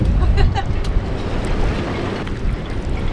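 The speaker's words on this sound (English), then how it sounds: "we sat and watched the waves hit the land with force that we had never seen in an anchorage" Waves crash with force against the shore of a Caribbean anchorage, a continuous rough wash of surf and water with wind buffeting the microphone, steady and fairly loud throughout.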